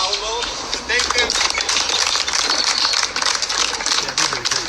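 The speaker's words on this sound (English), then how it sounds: "please all join me in a round of applause for the staff here at the Alamo" Applause for the staff during a retirement ceremony at the Alamo: dense, steady clapping from a crowd, loud and continuous throughout.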